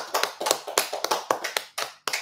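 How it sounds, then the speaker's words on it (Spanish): Sharp claps ring out at an irregular pace at a church service, a small group or single person clapping loudly and close by, ending with a brief pause and final claps. "Démosle un aplauso al Señor."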